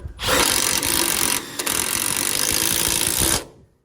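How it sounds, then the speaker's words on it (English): A power drill drives self-drilling screws up into a deck stringer from underneath, a loud steady high-pitched whir running for about three seconds with a brief pause midway. "We could take our self-drilling screws from underneath and tack that in."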